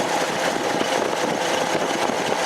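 An L28 engine in a Datsun 280Z idles roughly with a fuel fault, a close, steady broadband rumble without clear gaps or talk.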